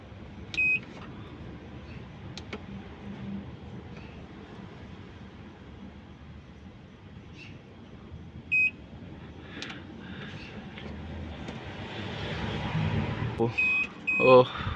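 A British Gas prepayment meter gives a few short, isolated electronic beeps as its buttons are pressed, spread over a quiet room hum with a slightly louder stretch near the end.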